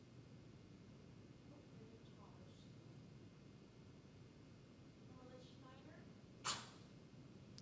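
A single short, sharp sneeze bursts out once against a quiet room hum, with faint murmuring voices nearby.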